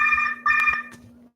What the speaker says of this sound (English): Yet another phone call.